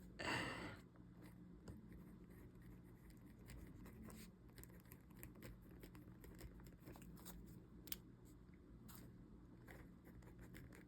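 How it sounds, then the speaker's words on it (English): A pen scratches across paper in a Hobonichi planner, quiet close strokes and small taps coming in irregular bursts against a soft room hush, with a brief rustle of pages at the start. "enjoy the sounds of pen on paper for a second."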